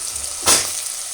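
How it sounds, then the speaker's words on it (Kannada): Vegetables for veg pulao cooking in a little oil, giving a steady soft sizzle with one brief louder hiss as they hit the hot pan. "ಸ್ವಲ್ಪ ಎಣ್ಣೆಯಲ್ಲಿ ಇದು ಬೇಯಿಸ್ಕೊಳ್ಬೇಕು"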